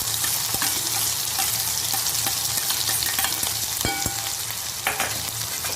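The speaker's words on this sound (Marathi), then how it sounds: "मोहरी तडकली की त्यामध्ये थोडी लसूण अद्रकची पेस्ट टाकायची" Garlic-ginger paste frying in hot oil with spluttering mustard seeds and cumin, a loud continuous sizzle with sharp pops and a few clinks of a spoon stirring the pan.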